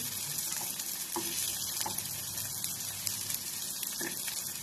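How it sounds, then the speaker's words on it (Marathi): Potato poha vadas frying in a pan while being turned over and over, a steady loud sizzle with occasional scraping stirs and soft clinks throughout. "फिरवून फिरवून भाजायचं पाहिजे चांगलं."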